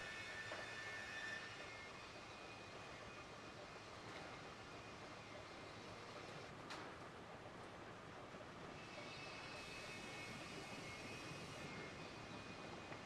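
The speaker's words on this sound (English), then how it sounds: "That's a heavy train." A heavy 18-car manifest freight train led by a Tenmile locomotive in the video game Railroads Online, a low, steady rumbling engine drone held at a constant faint level for several seconds, with no voices.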